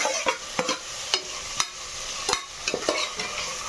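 Vegetables with tomato and carrot stirred and frying in oil and ghee in a pan, a steady sizzle with repeated scraping stirs of a spoon, close and alone.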